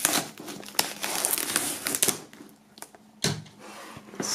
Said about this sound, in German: Wir werden das Ganze mal aus der Folie befreien und uns dann im Detail ansehen.